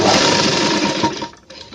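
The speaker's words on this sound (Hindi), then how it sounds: "मैं यहाँ पे सिलाई स्टार्ट कर रहा हूँ" Sewing machine stitching a gents shirt, a loud, close, continuous mechanical whirring that slows and cuts out near the end.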